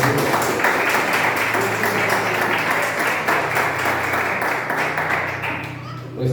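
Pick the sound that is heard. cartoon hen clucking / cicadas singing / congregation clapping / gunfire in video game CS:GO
congregation clapping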